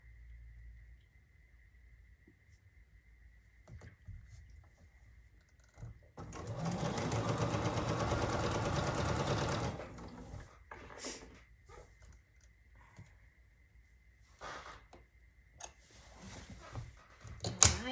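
Sewing machine stitching a quilt star block to a four-patch, a steady motorized whir lasting a few seconds, close and clear, with small handling clicks and rustles before and after.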